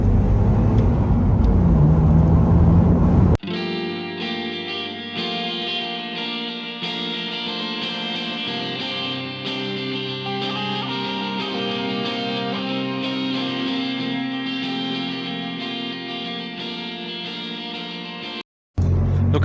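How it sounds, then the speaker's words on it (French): A 2004 BMW Z4 2.2i roadster on a test drive, its engine note a steady loud drone with strong harmonics holding through the run, cutting off abruptly near the end. "C'est parti pour le petit test de roulage."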